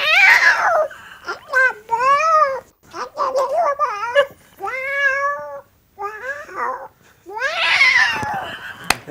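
On a TV morning show, a person imitates a cat with a series of drawn-out, rising and falling meows and yowls, loud and close, separated by short pauses.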